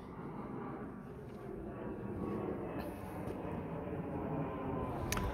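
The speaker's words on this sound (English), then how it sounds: "It's super foggy. And the airplane is very low." Low-flying airplane passing overhead in fog, a distant steady roar that swells slightly near the end, with faint clicks nearby.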